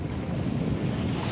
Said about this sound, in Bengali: কারণ ঢেউয়ের আওয়াজ, কিছু মানুষের আওয়াজ।